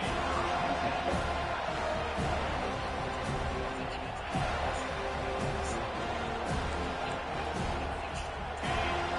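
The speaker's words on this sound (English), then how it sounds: "This crowd going to try to make life miserable for these guys." Dense, steady roar of a football stadium crowd at an FSU versus USC game, a continuous wash of cheering and noise with a commentator talking over it.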